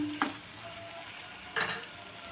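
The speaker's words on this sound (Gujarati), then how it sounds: "હળદર નાખી દઈશું, મીઠું નાખી દઈશું, લાલ મરચું પાવડર નાખી દઈશું અને સરસ રીતે મિક્સ કરી લઈશું" Tomato and onion masala sizzles in a pan for brinjal sabji as a spoon stirs it, with two short scraping bursts over a steady low frying hiss.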